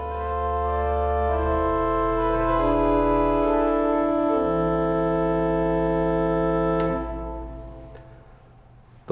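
Pipe organ, before its extension, holding sustained chords that shift slowly through several changes, full and steady, then releasing into a fading reverberant tail.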